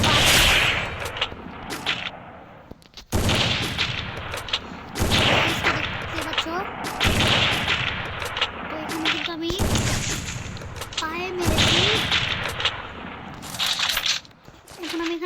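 AWM sniper rifle shots in a shooting video game ring out as loud, booming reports about every two seconds, each with a long echoing tail, over steady game background noise.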